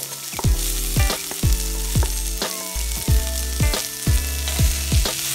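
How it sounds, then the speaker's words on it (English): Onions sautéing in oil in a pan for brinjal curry make a continuous close sizzle, punctuated by regular rhythmic knocks and thumps from stirring. "Saute the onions well until they become golden brown in color"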